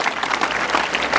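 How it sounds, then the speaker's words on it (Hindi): Audience applause at a school address to students and parents, a dense, steady clatter of many hands clapping, fairly loud throughout the short stretch. "और जोरदार तालियां बजाइए सर के लिए"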